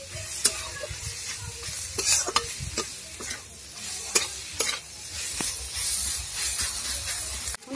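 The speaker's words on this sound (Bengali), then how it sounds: "সব রকম মশলা দিয়েছিলাম, ভাজা হয়ে গেছে।" Cumin and dried red chili paste with mixed spices frying in a pan for potato chop filling, a steady close sizzle broken by repeated sharp scrapes and clinks of stirring, no voices.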